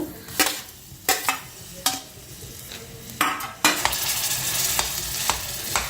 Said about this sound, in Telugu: దీన్ని మనం స్లో ఫ్లేమ్లో పెట్టి ఫ్రై చేసుకున్నాము.